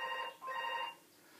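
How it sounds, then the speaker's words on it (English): A telephone rings indoors in two bright, warbling electronic bursts separated by a short gap, then falls quiet; no one speaks. "And then the phone rings."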